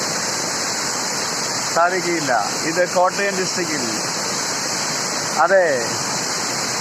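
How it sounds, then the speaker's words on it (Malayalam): A waterfall in Kottayam district roars as a loud, steady broadband rush throughout, with a voice speaking briefly over it. "മനോഹരമായ വെള്ളച്ചാട്ടം, അതിമനോഹരമായ വെള്ളച്ചാട്ടം"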